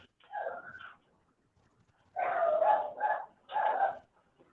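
A dog barks three times: a short bark, a longer, louder bark that breaks into two parts, then a final bark, close and fairly loud with quiet gaps between.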